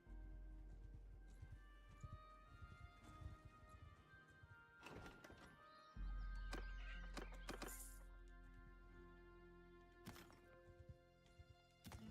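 Horses in the Mount and Blade video game clip-clop in irregular hoof clusters, with an occasional whinny and thunk. The sounds are quiet and distant throughout.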